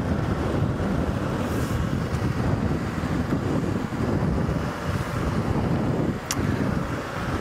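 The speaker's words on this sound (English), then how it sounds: "there is that strange hot Berg northwesterly wind. It's blowing in from there" A hot northwesterly Berg wind buffets an open safari vehicle in the African bush, a loud continuous rumbling roar of gusts across the microphone with no voices.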